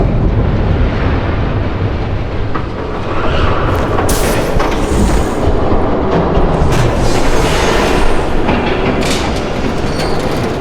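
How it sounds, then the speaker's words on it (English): A train thunders past in Batman: The Telltale Series, a loud, steady rumble of rolling wagons with rhythmic clickety-clack and occasional wheel squeals rising over the din, close and continuous with no talk. "There's a train coming."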